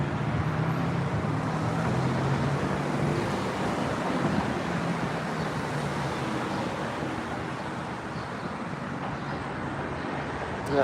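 A car passes on a nearby road, its broad tire and engine rush swelling and slowly fading against steady traffic noise, with no talk.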